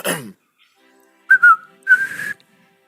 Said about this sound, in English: Starts to whistle